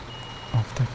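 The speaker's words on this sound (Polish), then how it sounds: "I obrócę po prostu ciężarówkę na..." A truck in Construction Simulator 2015 sounds its reversing alarm, with two loud, close beeps in steady rhythm over low engine rumble.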